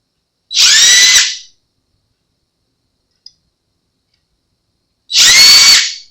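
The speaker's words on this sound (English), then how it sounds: "Maybe I'll just use a drill." Two short, high-pitched whirring bursts of a power drill marking holes in a clear-coated Fender Telecaster guitar body, close and loud, separated by a few seconds of silence with a faint click between them.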